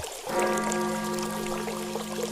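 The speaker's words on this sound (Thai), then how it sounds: "เสียงลำธารยังคงไหล" A stream flows steadily with a continuous watery rush, heard alone and at moderate distance.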